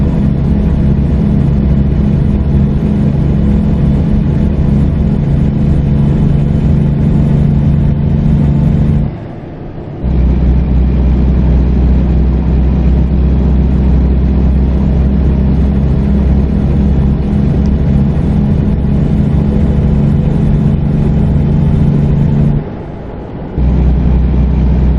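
A heavy truck engine drones steadily while driving in American Truck Simulator, a deep, loud, continuous rumble with a lowboy trailer in tow, briefly dropping out twice as the gears shift before the low hum resumes.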